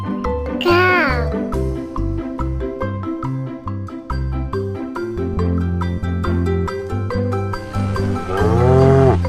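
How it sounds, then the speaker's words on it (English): A cow moos loudly over a steady farmyard background with music-like harmonic tones, two long bellowing calls near the start and end. "Cow."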